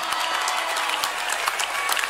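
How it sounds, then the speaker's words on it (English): An audience clapping during a sermon, a steady, dense patter of many hands at moderate distance, continuous for a couple of seconds with no break. "This clapping is discouraging."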